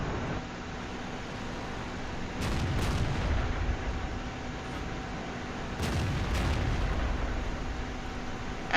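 Artillery shells from World of Tanks land in heavy booming bursts, two clusters of sharp blasts a few seconds apart over a constant low engine rumble and hum, with no talking.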